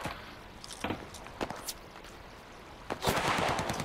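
Gunfire in the video game Cuisine Royale: scattered sharp shots early on, then a rapid automatic burst near the end, with faint footsteps between, fairly close and without talk.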